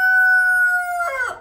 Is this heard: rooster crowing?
yes